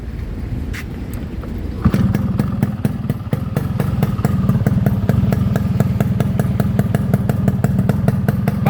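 A modified Yamaha RXS 115 motorcycle engine kicks into life after a short crank, then runs at a loud, close, rapid steady idle with a sharp exhaust beat throughout.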